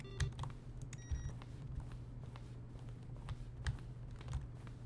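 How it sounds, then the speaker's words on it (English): Button-press sounds from the video game The Stanley Parable, each a keyboard stroke blended with a short synthesized tone, heard as a string of crisp taps and brief beeps, quiet and isolated. "Each sound is a mix of a keyboard stroke and a synthesized tone."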